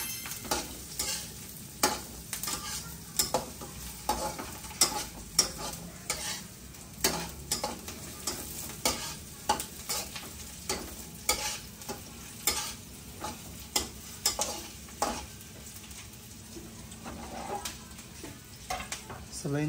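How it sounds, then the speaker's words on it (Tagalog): Garlic and onion sautéing in a pan, a steady sizzle broken by regular scraping strokes of a utensil stirring against the pan, close and continuous. "Nagigisa na ako ng ating bawang at sibuyas."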